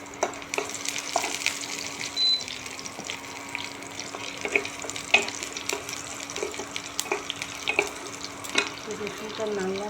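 Garlic fries in a pan with a steady, soft sizzle, punctuated by light clinks and scrapes of stirring close by.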